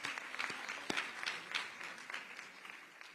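Scattered, thinning applause from a small audience at an arts and tourism awards event, a few distinct close claps standing out before the clapping fades away, with faint background murmur.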